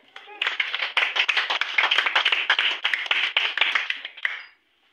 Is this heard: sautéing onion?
no